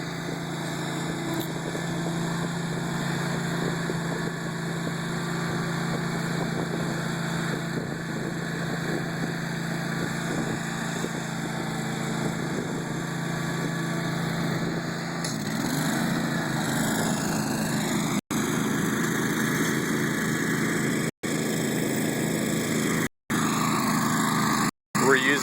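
A solid tine aerator working golf greens at Wing Point GCC, a steady mid-pitched engine drone running continuously with hum and mechanical whine, briefly cut by short gaps near the end.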